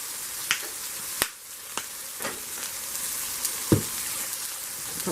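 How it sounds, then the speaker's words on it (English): Vegetables and peppers sauté and brown in a pan, giving a steady frying sizzle broken by sharp clicks and taps from a utensil, close up with no talk. "Everything's getting sauteed and nice and brown."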